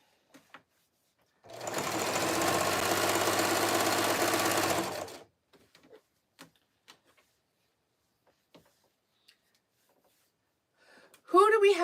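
A sewing machine hums in one loud, steady burst of about four seconds while stitching a jelly roll fabric rag rug. Quiet follows with small scattered clicks and handling noises, and a voice comes in at the very end.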